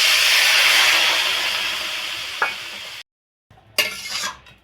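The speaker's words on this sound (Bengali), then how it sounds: "এর মধ্যে 2 বাটি গরম জল দিয়েছি।" Hot water is poured into a pan of sizzling pumpkin curry, a loud steady hiss and sizzle that fades slowly, then cuts out before brief clattering bursts.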